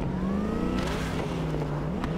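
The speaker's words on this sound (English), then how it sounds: "It sounds like my car is coughing and hacking." A car engine in Cyberpunk 2077 drones and sputters unevenly, its pitch dipping and rising as it coughs through gear changes, steady and close.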